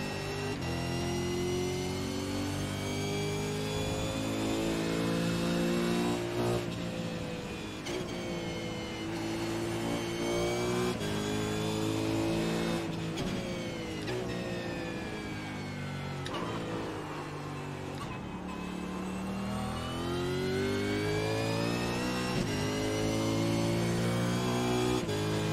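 A V8 Supercar engine in a racing video game at Mosport, revving loud and continuous with rising and falling pitch through gear changes and no talk.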